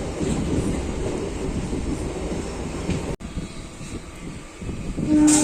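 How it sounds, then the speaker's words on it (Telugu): A goods train rumbles past nearby, a steady loud low roar that briefly dips then swells again toward the end. "అటు సైడ్ నుంచి ఏదో గూడ్స్ ట్రైన్ కూడా వస్తుంది"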